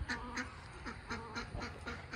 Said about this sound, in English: Ducks are just got out of their pool. They're playing around a little bit.